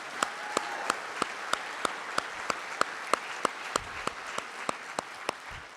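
An audience at a 2018 State of the City address applauds, a steady crowd wash with sharp, evenly spaced claps standing out on top, moderately distant and without speech.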